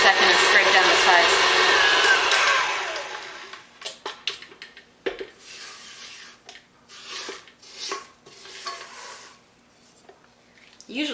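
An electric mixer creaming butter and brown sugar whirs loudly and steadily for about three seconds, then shuts off, followed by intermittent scraping and light clinks against the bowl.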